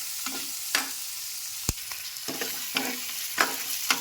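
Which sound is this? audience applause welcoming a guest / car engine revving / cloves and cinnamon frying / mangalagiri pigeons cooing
cloves and cinnamon frying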